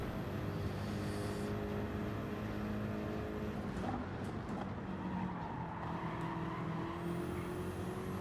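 Gran Turismo 7 race cars run side by side, engines droning and whining at high revs with tire squeal and a passing whoosh, fairly faint and steady throughout.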